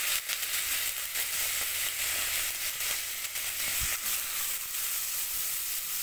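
Onion sizzles in oil in a pan, a loud, continuous crackling hiss that runs steadily throughout with no talking over it.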